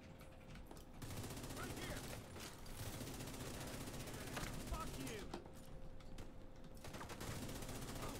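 Video game gunfire during a live stream, with rapid bursts and volleys of automatic shots rattling steadily at a low level, under excited speech.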